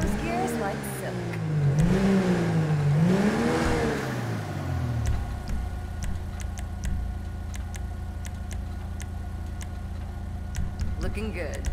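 An Albany Cavalcade XL SUV in Grand Theft Auto V revs up and down through its gears for a few seconds, then settles into a low idle with faint ticking while a voice speaks over it.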